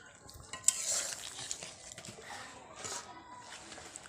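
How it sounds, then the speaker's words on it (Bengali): Fried hilsa fish and eggplant curry stirred in a pan, with soft scraping and clinks of a utensil against metal, a few sharper taps near the start, moderately quiet and steady. "এইগুলোকে এইবার একটু নেড়ে দেবো"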